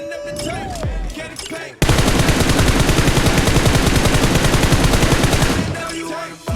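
Dense automatic gunfire from PUBG Mobile, played during a Gon outfit event, bursts in suddenly after a quiet stretch and rattles loud and continuous for about four seconds before cutting off.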